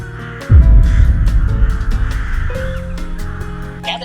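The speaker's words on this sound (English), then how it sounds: "if you see a flock of birds flying towards you" A flock of crows caws loudly and close by, with many harsh overlapping calls above a low throbbing rumble, like wingbeats or a swirling mass of birds, for about four seconds.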